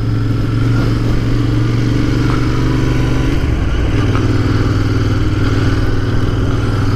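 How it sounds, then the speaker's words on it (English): A Royal Enfield motorcycle cruising along a road with the steady, loud thump of its engine droning throughout and a slight change in pitch midway as the rider eases off near a village. "I've been riding this bike about half an hour, 40 minutes now"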